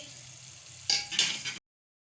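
Baingan bhurta with green chilli is stirred in a hot pan, giving a soft sizzle that breaks into a few louder scraping, frying bursts before stopping abruptly.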